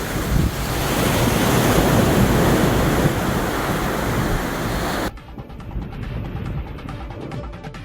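Sea waves surge and crash onto a beach in a loud, continuous wash of surf with wind noise on the microphone, then drop abruptly to a quieter, thinner wash of water for the final few seconds.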